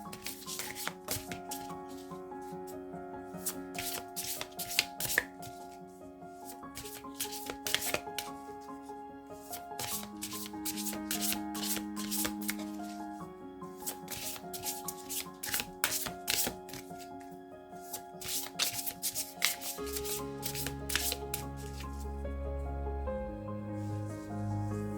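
Oracle cards riffled and shuffled by hand before a reading, a close run of repeated crisp flutters and slaps over steady tonal background music, without speech.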